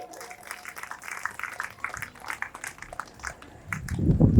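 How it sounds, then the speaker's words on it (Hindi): An audience at a Bhagwat Katha claps in scattered, irregular bursts that swell toward the end, with a voice over the clapping. "अरे फिर ताली बजाओ भैया, उनको जाने दो"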